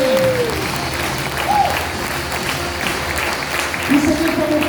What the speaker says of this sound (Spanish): Un aplauso al Padre.